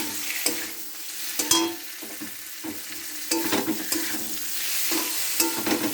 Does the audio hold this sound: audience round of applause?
no